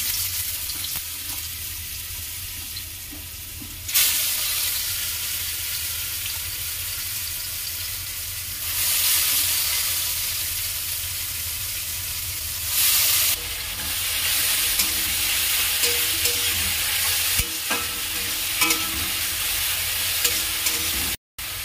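Squeezed pol chatu mushrooms fry in white oil, a continuous close sizzling hiss with swells as they are stirred and turned, the scraping of the spoon rising and falling over about twenty seconds.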